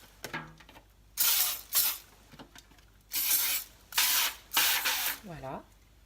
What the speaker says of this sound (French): Moi, je le huile avec une petite bombe,